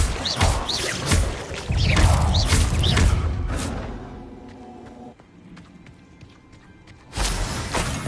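A Confringo fire spell cast in Hogwarts Legacy, heard as a loud burst of impacts and crackling thuds that fades into quieter game ambience before another strong hit near the end.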